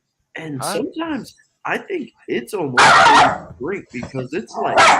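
A dog barks in a few sharp bursts from an indoor spot, mixed in among loud, close conversation from several people talking over it.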